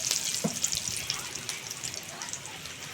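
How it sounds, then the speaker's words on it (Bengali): Whole garam masala and two bay leaves crackle in hot oil left from frying potatoes, a continuous close sizzle with small pops, steady and moderately loud. "ওই তেলের মধ্যে দিয়ে দিচ্ছি গোটা গরম মশলা ফোড়ন আর 2টো তেজপাতা।"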